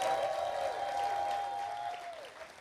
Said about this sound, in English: So let's all give a warm round of applause